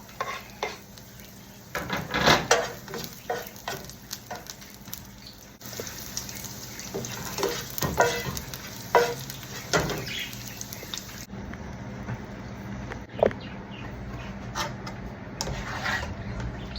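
Garlic fries in a pan for bok choy with shrimp sauce, a steady close sizzle broken by repeated clinks and scrapes of a utensil stirring against the pan.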